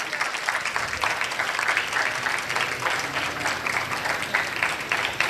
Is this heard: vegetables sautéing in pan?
no